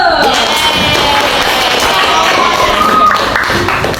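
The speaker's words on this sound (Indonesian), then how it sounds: "Ayo tepuk tangan dulu." A sixth-grade class claps after a group presentation. The applause is loud, close and dense, with scattered taps and thuds and children's voices mixed in throughout.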